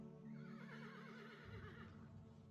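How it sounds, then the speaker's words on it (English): A horse whinnies from behind in a long, wavering neigh that rises and falls for about two seconds, faint and alone. "The sound of a horse behind you."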